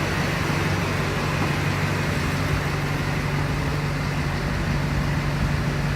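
A pickup truck fitted with big wheels drives on a test drive, its engine and road noise forming a constant, fairly loud drone with a steady low hum and no talking.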